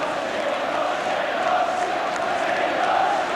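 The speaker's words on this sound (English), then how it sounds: "And listen to the crowd." A large football crowd at an Everton v Liverpool match roars after a goal, a broad sustained wall of cheering and chanting that swells slightly toward the end, with no commentary over it.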